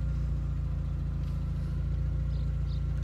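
The engine of a 2003 VW Golf GTI 20th Anniversary Edition runs steadily at idle, a low continuous rumble with a constant even hum and no voices.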